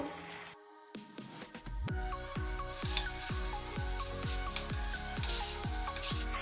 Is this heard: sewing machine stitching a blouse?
no